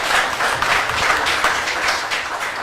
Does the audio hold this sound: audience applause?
yes